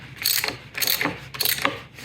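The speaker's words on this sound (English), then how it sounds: "So we're turning the motor counterclockwise." An Eco-Worthy hybrid solar-wind turbine generator for a greenhouse is turned counterclockwise by hand, giving three close, rhythmic bursts of ratcheting, clicking mechanical noise separated by brief pauses.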